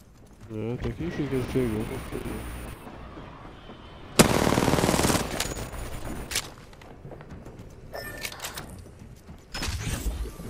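Gunfire in the Apex Legends video game, with bursts of rapid shots and single cracks spread across the clip, sharp and loud, amid game effects and people talking.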